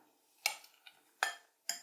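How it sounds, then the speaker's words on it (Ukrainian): Buckwheat and egg mixture frying in a pan, with three clear crackling bursts of sizzle and a couple of softer pops between them, close and moderately loud with no speech. "Ось воно так потроху смажиться"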